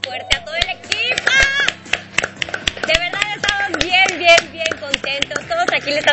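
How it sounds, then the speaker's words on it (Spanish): Applause for a cooking show team in a studio, a few claps heard as scattered sharp taps mixed with lively talking and laughter. "Yo quiero darle un aplauso muy fuerte a todo el equipo."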